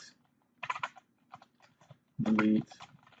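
Keys tapped in short bursts while a command is entered on a computer keyboard, a quick cluster of clicks, a pause, then a louder burst near the end, close and fairly quiet.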